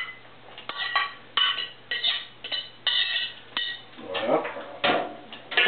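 Chopped salad ingredients, including green and yellow peppers and tomatoes, are tossed in a bowl for a Caesar salad with ham and vegetables, giving soft repeated clinks and rustling scrapes in bursts while a voice speaks briefly.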